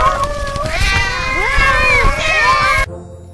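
A dense chorus of many cats meowing at once, overlapping high wavering cries loud and continuous for nearly three seconds before cutting off abruptly.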